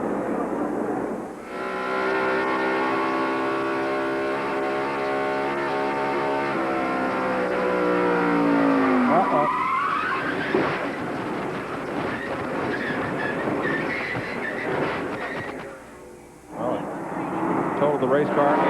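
A NASCAR Winston Cup stock car engine at the 1993 Winston All-Star Race, caught from the in-car camera, roars loud and steady, sweeping down in pitch then climbing again through gear changes, with a commentator talking over it.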